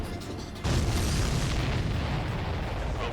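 Explosion in the Ace Combat 7 flight combat video game, a sudden loud booming burst that rolls into a sustained rumbling roar, following quieter game background.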